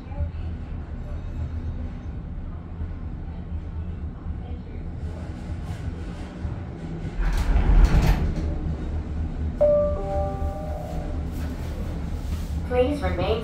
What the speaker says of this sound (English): Please remain seated until the doors automatically open.